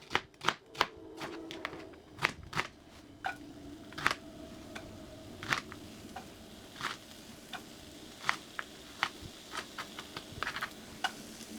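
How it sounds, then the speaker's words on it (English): Knife chopping onions on a cutting board in a home kitchen while making keto goulash, a quick series of sharp taps, some clustered and others spaced apart, close and fairly quiet with no talking. "Chop and drop your onions in there since you already got your oil going."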